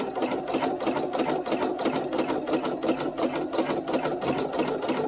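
A sewing machine runs in a fast, steady rapid-fire chatter while embroidering organza and net on soluble stabilizer, close and continuous with no talk.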